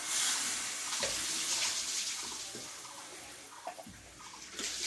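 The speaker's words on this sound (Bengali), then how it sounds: "এবার এখানে আমি একটু জল দিয়ে দেবো" Water pours steadily into a pan of spiced vegetable curry, a close, continuous splashing and gurgling rush with no talk.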